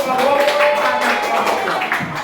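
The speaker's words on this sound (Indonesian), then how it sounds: "Tepuk tangan buat Yaumi dan Asep Rohidin" A classroom applauding two students, with brisk scattered clapping from many hands filling the room over ongoing voices.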